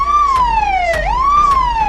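Ambulance siren wailing steadily, loud and close, its pitch sweeping slowly down and back up in a continuous cycle.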